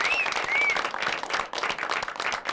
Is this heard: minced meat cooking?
no